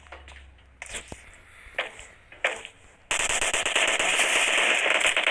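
Gunfire in the mobile game PUBG Mobile: a few sharp single shots, then a dense, continuous burst of automatic fire, loud and close.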